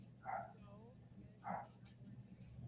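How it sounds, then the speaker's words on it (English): Several dogs bark indoors in two sharp bursts a little over a second apart, moderately close, over a quiet room with a faint low hum. "And on cue, my dogs go crazy."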